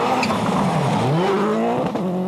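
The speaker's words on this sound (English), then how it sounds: "There's another Ford. God, they all sound good so far." A Ford WRC rally car at Rally Finland 2000 races past, its engine note rising and falling over about two seconds, fairly loud and alone, with a brief tyre or gravel scrub near the end.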